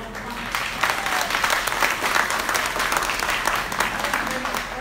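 An audience at a general membership meeting claps steadily, a full, even burst of applause that starts abruptly and holds at a consistent level for several seconds.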